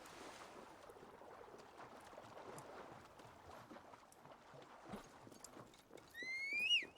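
A horse's hooves clop in Assassin's Creed Valhalla, a soft, fairly steady trot over quiet game ambience, ending with a louder swell and a brief neigh-like whinny.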